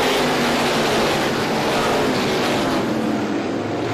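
Race cars at an auto racing event roar back up to speed after a green-flag restart. A loud, dense engine drone holds steady and continuous throughout, with no speech.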